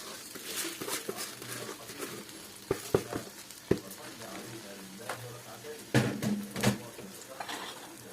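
Rice poured into a hot pot for plain white rice, giving light patter and sizzle with stirring scrapes and a few sharp clanks of utensils against the pot, up close.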